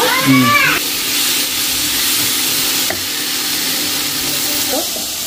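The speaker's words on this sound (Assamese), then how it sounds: "অলপ উতলা গৰম পানী দি দিম" Hot boiling water poured into a cooking dish gives a loud, hissing sizzle and bubbling that settles into a steady simmer, with a short voice at the start.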